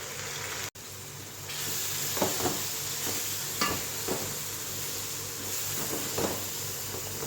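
Tomatoes and green chillies fry with onions in a pan for mushroom biryani, a quiet constant sizzle punctuated by several spatula scrapes after a brief cut near the start.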